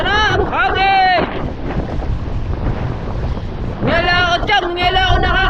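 Strong gusty wind from a storm at a river in Batangas roars and buffets steadily throughout, loud and close, with a voice speaking over it at the start and end.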